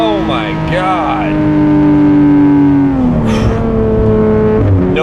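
A naturally aspirated 4.0-litre flat-six in a 991 Porsche 911 GT3 RS with PDK gearbox roars close and loud, its revs climbing, dipping through a shift, then rising again in a sustained, richly tonal howl.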